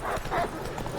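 Hoofbeats of a horse in the video game Witcher 3, a brisk clip-clop rhythm trotting close by, heard for about a second against steady in-game ambience.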